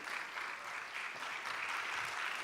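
A church congregation claps steadily at a Saturday service, a dense, even patter of many hands held at moderate level throughout with no pause.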